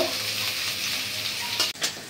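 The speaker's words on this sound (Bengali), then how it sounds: "পেঁয়াজ কাঁচামরিচটা একটু ভাজা নিব।" Onion and green chili sizzle steadily in hot oil, a continuous crackling fry, with a brief stirring scrape and a short dip near the end.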